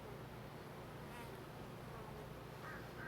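Honey bees buzz steadily at close range during a backyard hive inspection, a dense continuous drone that stays level throughout with no voices.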